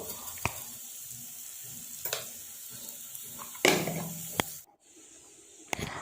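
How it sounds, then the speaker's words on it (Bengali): Spices and sugar fry in a pan with a steady sizzle, broken by sharp scraping knocks of a utensil stirring them, before the sizzle cuts out abruptly near the end. "আর একটু চিনি ভালো করে মশলাটাকে ভেজে নেব"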